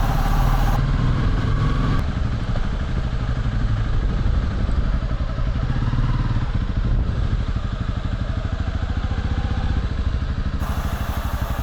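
A motorcycle rides through a town precinct closed to vehicles, its engine a loud, steady, close drone throughout with a faint clatter and no speech.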